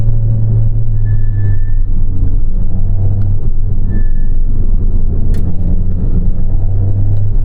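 A Porsche Cayman R with stiff suspension and a mid-mounted engine drones loudly and steadily from inside the cabin while driving, with a deep, even rumble and a brief higher whine, and no talking.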